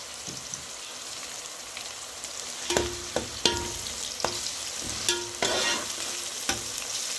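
Browning onions fry in a pot of mutton curry right after salt goes in, a steady sizzle broken by several sharp scrapes and knocks of stirring, close and with no talk.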